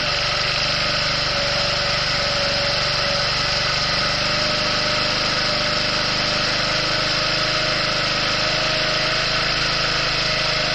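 A small engine idles steadily after starting, one of a fleet of small machines. Its loud, close, continuous drone holds an even pitch throughout with no voices.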